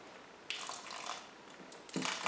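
Water drains out of a plant pot in short bursts, a faint splashing trickle that starts abruptly, dies down, then gushes again more strongly near the end.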